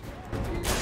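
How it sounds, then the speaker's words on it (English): Gunfire in the James Bond: Bloodstone video game on Xbox 360, a short burst of shots sounding close and loud, with a voice talking over it. "He's firing at us."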